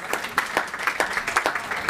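A conference audience claps in a brisk, uneven patter, individual hand claps clearly separable, steady through the short stretch.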